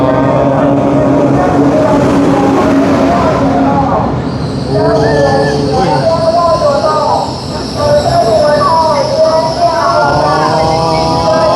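A train rolls in with a rumbling roar and high metallic wheel squeals, while voices chatter nearby over the noise.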